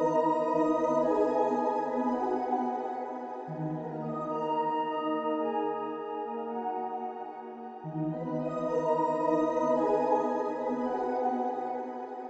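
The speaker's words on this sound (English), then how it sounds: "So there's another lead synth part here as well" Bright lead synth with a very wide detune playing the hook of an electronic track, sustained rich chords that change twice, steady and moderately loud with no voices.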